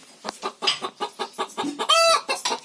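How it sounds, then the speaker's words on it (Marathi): Loud egg-laying cackle of a hen in Alibag, a quick series of about a dozen close, clipped clucks building to a long strained squawk near the end, then more clucks. "अंडा घातल्यावर ओरडतो कोंबडी."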